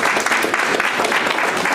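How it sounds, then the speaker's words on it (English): An audience at a congressional candidate debate breaks into sustained, even applause from many hands, filling the room with no speech over it. "would you hold the applause till the end of the meeting"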